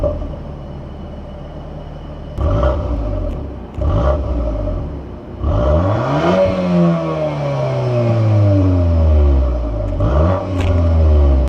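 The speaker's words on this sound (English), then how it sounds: "let's take this Golf R on a drive now" A Volkswagen Golf R in sport mode pulls away and revs up through several gears, engine pitch climbing and dropping with each shift, loud and close from inside the car.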